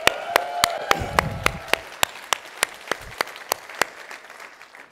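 An audience at ChefConf 2017, a tech conference, breaks into applause: dense, sustained clapping at moderate volume, with a few sharper individual claps standing out and the sound tapering off toward the end.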